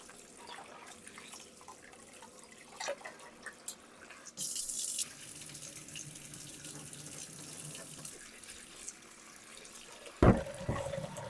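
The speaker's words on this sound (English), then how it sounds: "So we're going to carry on washing this until that water runs clear." Steady running tap water splashes into a sink while lentils are washed, for several seconds, with a brief louder gush near the start and clattering near the end.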